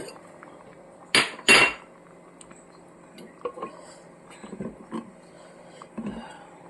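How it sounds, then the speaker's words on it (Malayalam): A spoon clinks and scrapes against a cooking pot in a few short, sharp bursts, with softer taps afterward, while salt is added to a jackfruit seed and cheera avial. "ഇച്ചിരി ഉപ്പും കൂടി ഇടുകയാണ്."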